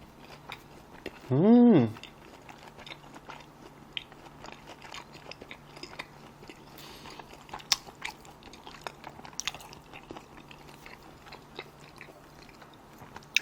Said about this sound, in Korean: 그러면은 요거 엔가 초밥 한번 먹어볼게요